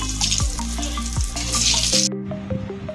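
Kakrol (spiny gourd) pakoras coated in poppy-seed paste sizzle steadily in hot oil. A close, continuous frying hiss runs throughout, with a brief stirring scrape and a shift in tone near the end.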